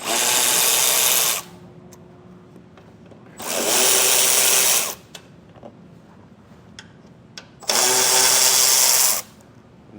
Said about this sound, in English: just get a T30 Torx and take it out